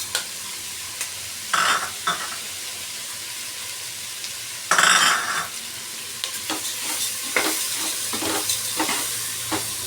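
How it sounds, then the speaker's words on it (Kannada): Unsoaked chana dal sizzles in a frying pan for a gourd palya, a steady hiss broken by repeated scraping stirs and louder bursts as the lentils are tossed, with no voices. "ಈಗ ನೋಡಿ, ಕಡಲೆಬೇಳೆ ಹಾಕ್ತೀನಿ."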